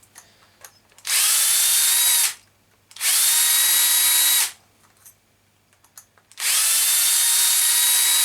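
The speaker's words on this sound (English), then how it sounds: "Every time I use my screwdriver I have to laugh" Electric screwdriver whirring on a 1/7-scale King Motor Explorer RX RC rally car, in three loud sustained bursts of about one to two seconds each, separated by short quiet pauses.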